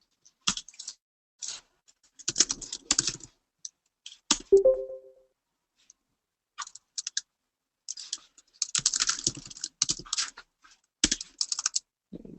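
Computer keyboard typing heard close up in quiet bursts of rapid clicks separated by short pauses, with one brief tonal beep partway through.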